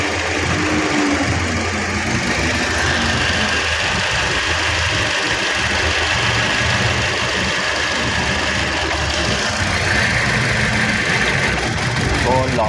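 A Toyota Altis engine idling rough because of a faulty high tension wire, a steady uneven rumbling drone running throughout at close range, with a voice talking over it.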